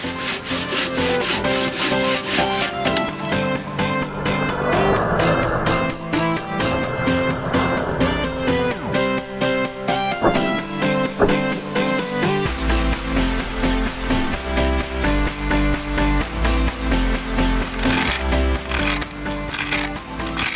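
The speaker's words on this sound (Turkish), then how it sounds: "Sıradan bir ağaç testeresiyle bile boyutunu ayarlayabilir, şekil verebilirsiniz" Steady, rhythmic rasping strokes of an ordinary wood hand saw cutting through an EPS foam block, close up, with music playing underneath.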